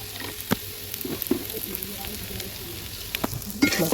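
Ginger and green chili frying in a pan, a steady close sizzle with scattered sharp crackles and pops, plus a few light clinks of stirring.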